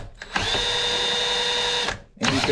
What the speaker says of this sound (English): So what you can do is you hook a drill up to this.